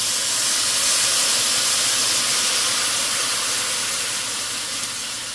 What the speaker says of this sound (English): to deglaze the pan and get all of those burnt goodies out of there, we are going to put some red wine